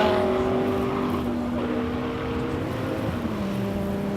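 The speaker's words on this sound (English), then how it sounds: "This is the Mustang Rouge." A Ford Mustang race car at a hillclimb roars past as a steady, fairly loud engine drone that shifts pitch over a few seconds and then falls to a lower note.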